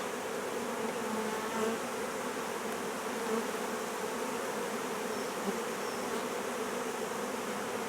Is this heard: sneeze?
no